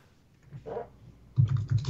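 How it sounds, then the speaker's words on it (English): Keyboard typing on a computer during a live podcast stream, a few rapid soft keystroke clicks arriving after a quiet stretch, fairly close and alone. "now I hear him typing"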